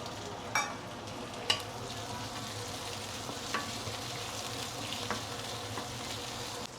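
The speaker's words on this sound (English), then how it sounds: "Once the oil is heated up, we can put in the shallot and also garlic." Shallot, garlic and prawns sauteing in hot oil in a pan, a soft steady sizzle with a few faint clicks of a utensil stirring, quiet and close with no voices.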